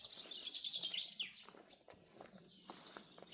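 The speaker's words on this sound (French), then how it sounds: "j'ai fait une minute de silence pour écouter les chants des oiseaux" Small birds chirp and trill in a garden beside a chicken coop, a quick run of high, bright calls at first, then scattered faint chirps and soft taps in a quiet outdoor setting.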